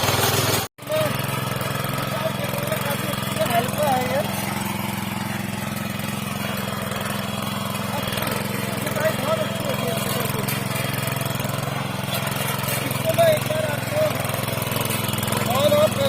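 A small tractor engine runs steadily on a hillside terraced farm, a continuous low mechanical drone with an even, close hum throughout and a brief dropout near the start.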